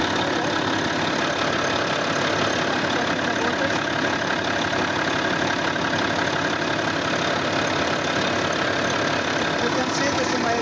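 A Volvo wheel loader's diesel engine idles close by, a steady, unbroken mechanical rumble at a constant level with no change in revs.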